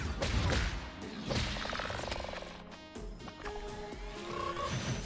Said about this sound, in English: Oh, it's the frogs.